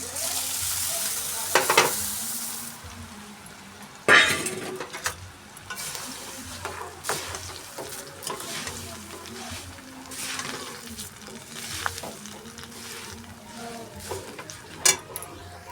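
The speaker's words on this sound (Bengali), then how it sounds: "লাল লাল করে সুন্দর করে ভেজে নেব বন্ধুরা পেঁয়াজটা লাল লাল হয়ে গেছে" Onions frying until reddish-brown in a pan, a steady close sizzle with stirring scrapes, broken by a few louder rushing bursts as puffed rice (muri) is tipped in and tossed through the hot oil.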